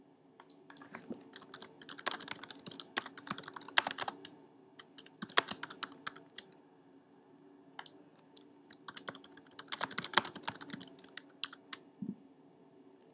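Keystrokes on a computer keyboard as a new FAQ entry is typed, coming in quick clustered bursts with short pauses between them, close and moderately quiet with no talking.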